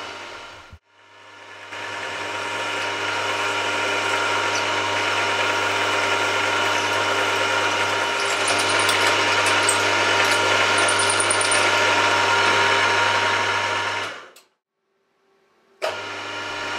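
A drill centre-drills a 6.5mm hole in a metal component, a steady whirring machine drone that runs for about thirteen seconds after starting up, then stops and briefly starts again at the end.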